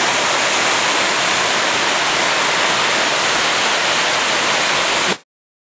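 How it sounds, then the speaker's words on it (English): Floodwater from the overflowing Galena River rushes in a loud, steady, unbroken roar before cutting off abruptly near the end. "and the force and how fast this water is moving"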